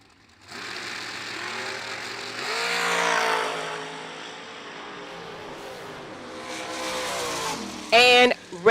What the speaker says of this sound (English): The Hillbilly Hammer of Mike dials in with a 453 dragster right lane.